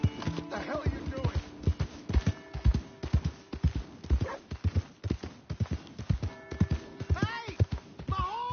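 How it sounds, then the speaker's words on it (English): Horse hooves clip-clopping in Red Dead Redemption 2, a steady close rhythm of hoofbeats running throughout, with brief voices and a few rising tonal sounds near the end. "Hey! My horse!"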